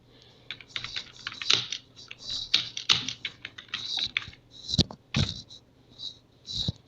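Typing on a computer keyboard: quick irregular clusters of key clicks with short pauses, close and fairly quiet, no talking.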